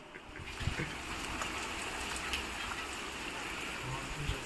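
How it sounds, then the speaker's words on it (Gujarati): Heavy rain pours steadily in Beraja village, a dense, even hiss of falling water with occasional louder drips and knocks close by. "બેરાજામાં ફૂલ વરસાદ."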